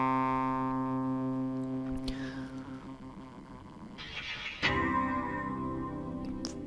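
A polyphonic VocalSynth vocoder preset called Flight of the Angel, played in Cubase, gives sustained shimmering chords with electronic, chorus-like tone that shifts and swells partway through.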